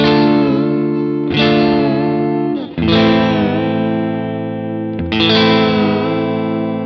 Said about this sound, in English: Now with the dip, you just go down.